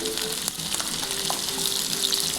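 Onion and green chillies frying in a pan while being stirred, giving a steady, dense sizzle that holds throughout with a few faint scraping stirs underneath.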